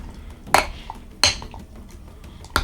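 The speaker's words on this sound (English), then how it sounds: "And then I'm gonna take this coffee pot down. Remove the top there." A metal coffee pot, used for boiling donuts in coffee, is lifted down and its lid pulled off. Three sharp, close clanks and clinks ring out at separate moments with quiet pauses between, and no talking.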